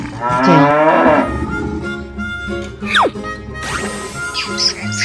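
A cartoonish cow moos in a 3D animal video game, with a long low call followed by brighter sliding game tones and music, steady and loud throughout with no talking.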